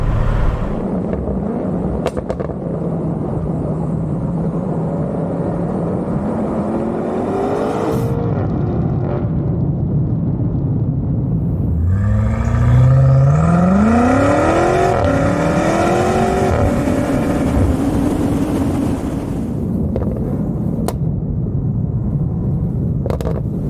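A tuned BMW F90 M5 with a JB4 tune pulls hard in a second-gear roll-on from about 40, engine note climbing steadily as boost builds, loud and close over heavy wind rush, then easing off near the end.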